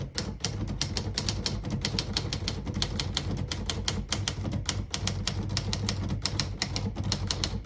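Rapid, steady clatter of keys striking on a 1954 Smith-Corona Skyriter portable typewriter as a sentence is typed, close and loud, with sharp even strikes running continuously throughout.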